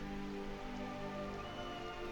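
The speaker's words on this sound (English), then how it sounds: "Oh, it is raining." Steady rain falls in the video game Skyrim, a continuous even hiss of drops on surfaces with no breaks, moderately quiet and heard alone.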